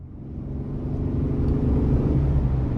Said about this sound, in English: take this 2023 9-passenger Express 2500 out on the road for a quick test drive